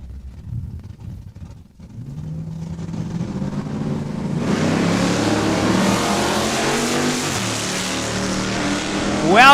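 Drag racing trucks launch from the starting line at Saskatchewan International Raceway in Saskatoon, engines building from a low idle into a loud, sustained roar that swells and stays strong, heard from nearby without talking.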